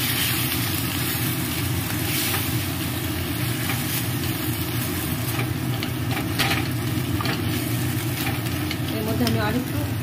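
Steady wet scraping and sizzling of a rice paste thinned with water being stirred in a hot pan, continuous and close with a constant background hum.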